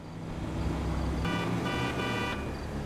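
A car horn sounds in the GTA V LSPDFR game in a couple of sustained honks over a steady bed of engine and traffic noise, fairly loud and close.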